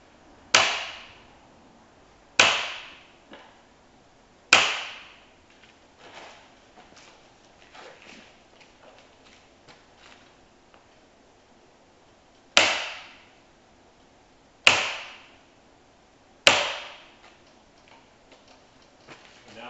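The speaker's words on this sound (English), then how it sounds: "Using electric stapler today." An electric stapler fires staples into a wooden frame for an acoustic panel, sharp single clacks spaced a couple of seconds apart in two clusters of three, close and crisp with quiet handling noises between.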